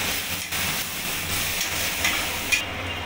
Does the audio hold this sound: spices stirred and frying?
yes